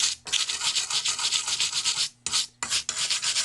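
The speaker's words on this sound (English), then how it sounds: "we'll just clean up the pitch on this side as well" Brisk back-and-forth scrubbing of pitch off a circular saw blade with WD-40, rapid rhythmic rasping strokes close up, with two brief pauses between bursts.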